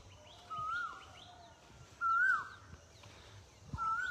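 A koel calls on a groundnut farm, three loud rising whistled notes spaced a second or two apart over a quiet outdoor background.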